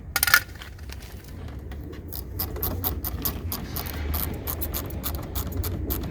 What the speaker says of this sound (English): just go ahead and crank down all 3 screws and set it in place